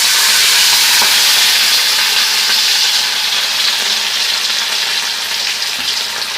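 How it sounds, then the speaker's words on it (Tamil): Fish pieces frying in hot oil in a kadai for a Tamil-style masala fish fry, a steady loud crackling sizzle that holds throughout and fades slightly toward the end, with no talk. "இப்போ இதில் மீனை போட்டு பொரிச்சு எடுத்துடலாம்"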